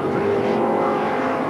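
A TVR Tuscan race car in a 1990 Tuscan Challenge race roars past at speed, its engine a loud, steady, dense drone with no speech over it.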